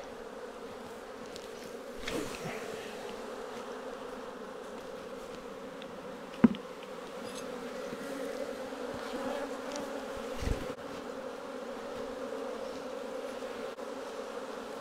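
A dense mass of honeybees around an open hive hums in a steady, continuous drone close by, broken only by a couple of faint knocks.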